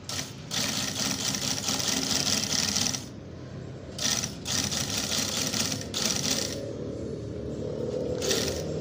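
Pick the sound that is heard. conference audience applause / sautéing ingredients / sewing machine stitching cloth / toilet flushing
sewing machine stitching cloth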